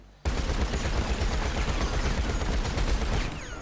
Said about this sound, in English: in a matter of 2 seconds, the quad cannons are gonna just decimate her